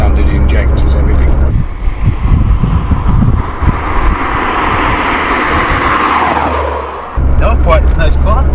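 A Ford Sierra Cosworth, a barn find with a totally standard engine and injectors, drives along country roads, its engine droning steadily under wind rush from inside the cabin, with people talking over it.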